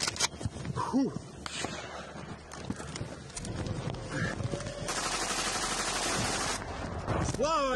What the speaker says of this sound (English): Russian soldiers on a motorcycle spot an attack drone and immediately draw their